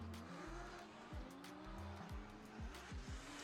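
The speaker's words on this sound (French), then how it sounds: "prochain battle, Damien Fréchet en BMW contre Michael Lahaye dans l'AS13." Drift cars battle at the 2023 French Drift Championship, a BMW against another car, with engines revving hard, repeated pitch sweeps from gear changes and squealing tires, loud and close, with no talking.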